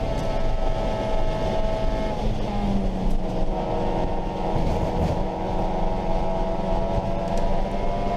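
Race cars, including a Mini, roaring around a track in a close race, a continuous loud engine drone with shifting pitch as cars pass and gear changes, no talk.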